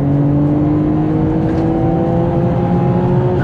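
A Nissan GTR R33 fitted with the 400R kit, about 450 horsepower, pulls hard in third gear from around 3000 rpm, its engine note rising steadily and loudly from inside the car with no talk.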